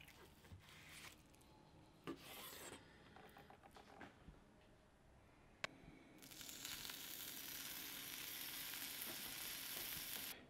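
Homemade maple sriracha bacon slice frying in a pan, first quiet scraping and clatter, then a loud, steady sizzle that swells and holds through the second half, with no voices.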